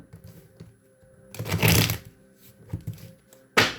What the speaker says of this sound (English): I'm going to shuffle these up.